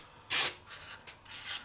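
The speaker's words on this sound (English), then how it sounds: "you're going to spray paint just the inside of it" Spray paint hissing onto the inside curves of paper dahlia petals for a wedding backdrop: one loud, close burst of about a quarter second, followed by softer, patchy spritzes and faint rustling.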